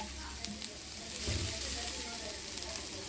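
Rava dosa batter hisses and sizzles steadily on a hot griddle pan, a dense, close frying crackle with a brief swell in the middle.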